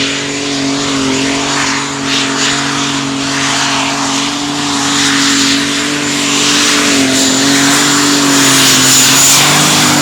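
A pulling tractor with powerful twin exhaust turbochargers mounted left and right in a two-step setup, rated at 4,500 horsepower, roars loud and sustained. Its steady, droning engine note climbs slightly as it revs throughout.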